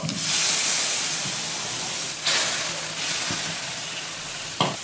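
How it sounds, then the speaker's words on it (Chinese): Beef drops into a pot of simmering beef broth with small potatoes and red chili oil. A steady hiss and bubbling sizzle fills the clip, with brief splashy bursts as the meat goes in. "现在倒入出牛肉的汤， 下入牛肉。"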